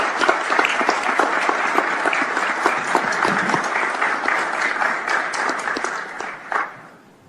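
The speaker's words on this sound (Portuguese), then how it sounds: "O representante sai da tribuna, o presidente levanta, aplaude." Applause at a supreme court session: a room of people clap steadily and fairly close, with a few sharp individual claps, before the clapping tapers off and stops.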